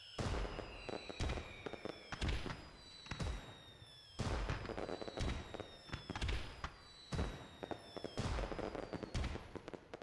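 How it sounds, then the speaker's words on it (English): Video-game fireworks from Pac-Man Championship 2 burst repeatedly in a steady run of loud, crackling pops, with whistling tones sliding down between the blasts. "It's somewhat cathartic to hear the fireworks"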